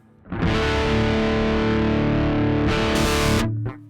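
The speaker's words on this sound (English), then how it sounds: "The interesting thing to me is that channel, the vintage dirt channel." A bass note rings out through the gritty vintage dirt distortion channel of a Two Notes ReVolt Bass for about three seconds, fuzzy and loud, then cuts off with a brief scrape of strings.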